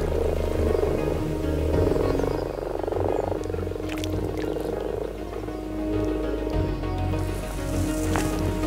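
Frogs croak in a garden pond during mating season, a dense, continuous chorus of low rattling croaks from several animals close by, with a few sharper splashes or clicks mixed in.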